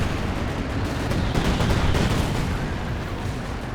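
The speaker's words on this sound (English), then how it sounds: "In come the bombs" Royal Air Force bombs slam into a mechanized HQ in Company of Heroes 2. Steady, dense rumbling explosions mix with crackling gunfire and swell briefly in the middle, loud and continuous throughout.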